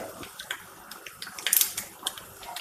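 Mustard and fenugreek seeds crackle and pop in hot oil, with a quick run of sharp pops midway over a soft steady sizzle.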